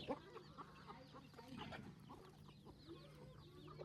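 Village chickens on a Gujarat farm cluck softly in a quiet yard. Short, scattered calls repeat throughout, with faint background rustle and no clear talk.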